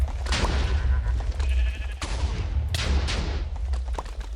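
Sheep bleating in a video game, a few short bleats mixed with sharp gunfire-like bursts and game effects, loud and busy throughout with no clear talk.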